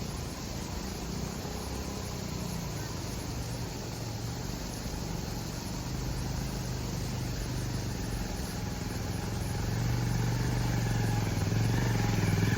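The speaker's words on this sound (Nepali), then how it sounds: "हाम्रो बुढो बाइक आउँदैछ" An old motorcycle engine runs steadily, a low mechanical drone and clatter that slowly grows louder as it approaches on a mountain road in Nepal, with no talking.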